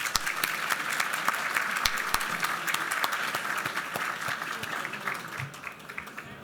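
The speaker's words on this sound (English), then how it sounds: "Let's give Claire another round of applause, please." An extended round of audience applause at a Lincoln Day political dinner following a singer's performance, dense and continuous clapping from a large room, moderately distant and steady before easing slightly at the end.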